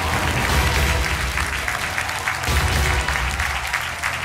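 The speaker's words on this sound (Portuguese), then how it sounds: "Seu aplauso ao João." Audience applause for a contestant on a Portuguese TV quiz show: a full, steady roar of many hands clapping, sustained and fairly loud across the whole stretch with no talking over it.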